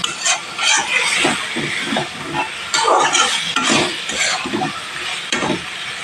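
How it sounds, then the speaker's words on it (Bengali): Okra cooking down with spice masala in a pan, a steady sizzling hiss broken by repeated scraping strokes of a spoon stirring through the thick mixture, close and fairly loud with no talking. "ভেন্ডির সাথে মশলাটাকে ভালোভাবে কষিয়ে নিতে হবে আরও দু মিনিট"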